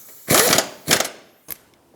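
Engine mount bolts being snugged on a 1997-2001 Lexus ES 300 with a ratchet: two rasping bursts of clicking close by, then a brief final click.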